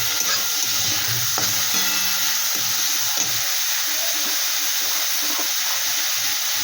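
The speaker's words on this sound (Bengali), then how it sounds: "এই গাজরটাও আমি সামান্য একটু ভাজা ভাজা করে নেব।" Carrot pieces and green chillies fry in a pan at home with a steady, dense sizzle and hiss, joined by a few soft stirring scrapes and knocks that are close and fairly loud throughout.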